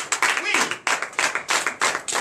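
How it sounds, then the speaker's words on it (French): Audience at a night church service clapping in a brisk, regular rhythm, sharp close claps in quick groups with voices calling out over them. "Donnez l'acclamation à Jésus"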